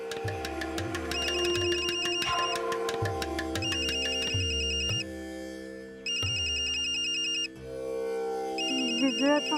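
A telephone rings at home with a repeating electronic ringtone in regular bursts over a steady musical background, loud and close.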